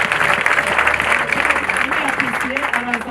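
Sustained, dense clapping from a church congregation at a Sunday service of the ADEPR church, filling the whole stretch at steady loudness, with voices audible over it.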